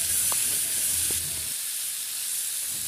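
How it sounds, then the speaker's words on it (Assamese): Onions and vegetables with turmeric and cumin powder fry in a pan, a steady loud sizzle and hiss with a couple of stirring knocks early on. "পিঁয়াজ অকণমান ৰঙচুৱা হ'ব পৰাকৈ ভাজিখিনি ঢালি দিলোঁ।"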